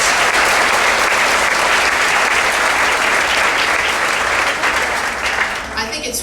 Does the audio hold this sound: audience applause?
yes